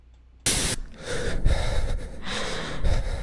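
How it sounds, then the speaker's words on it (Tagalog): Cartoon capybara character breathing heavily over a phone call, a burst of loud gasping followed by repeated rough panting breaths, close and alone. "Bakit hinihingal si Capybara?"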